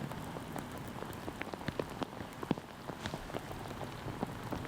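Steady rain falls outdoors at a disc golf championship, a dense patter of drops tapping on surfaces with scattered sharper hits, continuous and fairly close, with no talking.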